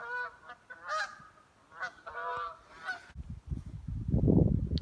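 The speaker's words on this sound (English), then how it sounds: "After I get some geese flying overhead here." Geese honk as they fly overhead, several sharp nasal calls in quick succession, fairly close and clear with no talking, while a low rumble builds toward the end.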